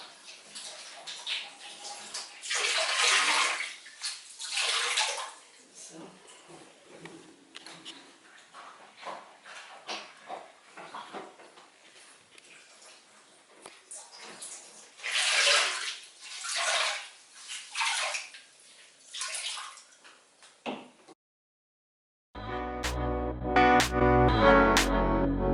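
Water is drained from the reservoir of a Tower Garden hydroponic tower while residue is drawn off the bottom. The sloshing and gurgling rises and falls in uneven surges, then stops abruptly. A short burst of music follows.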